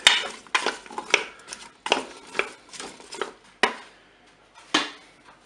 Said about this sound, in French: Je vais prendre mon huile et je vais verser l'huile sur les potatoes. Vous mélangez.